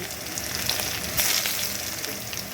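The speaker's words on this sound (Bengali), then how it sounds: "এবারে এই তেলের মধ্যেই দিয়ে দিলাম গ্রেট করে রাখা রসুন" Grated garlic dropped into hot oil in a pan sizzles loudly and steadily, a dense crackling hiss that swells briefly midway, with no voices.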